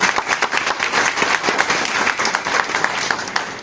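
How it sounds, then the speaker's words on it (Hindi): Audience applause at a university academic session opening, steady dense clapping from a large crowd throughout. "मैं बिना किसी औपचारिकता के एक बार चाहता हूं कि आप सभी का तालियों से अभिवादन करें, अभिनंदन करें।"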